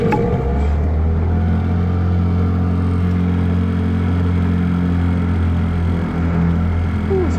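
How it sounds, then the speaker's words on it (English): A small boat outboard motor on a Louisiana bayou runs at a steady, close, loud drone under light throttle, a low rumbling hum with mechanical rattle and no voices. "Just gonna let that motor warm up just for a second."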